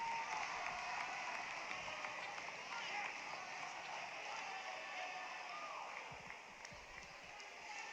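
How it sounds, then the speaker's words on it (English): Home crowd at a Lawrence High boys basketball playoff game against Attleboro, a loud sustained roar of cheering fans filling the gym for the full stretch, gradually easing slightly toward the end. "we're just going to let you listen to the Lawrence crowd for a moment right now"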